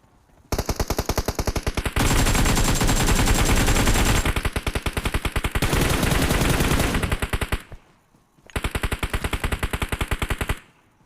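Rapid automatic gunfire comes from the BGMI battle royale game in long, loud, dense bursts. The bursts are broken by brief pauses, and one burst restarts near the end.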